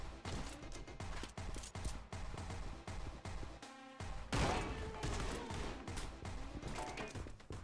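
Rapid bursts of SMG fire in the video game Anger Foot, crackling in quick repeated volleys with a brief pause and a heavy impact midway, loud and close throughout.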